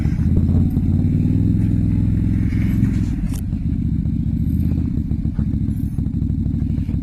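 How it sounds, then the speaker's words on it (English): Can-Am Maverick XMR side-by-side with its sway bar removed, driven over bumps: a loud, steady engine drone under constant rumbling, with suspension clatter and knocks as it rolls over rough terrain, close up. "I just want to see that test going over the same bumps just to really show what the difference is"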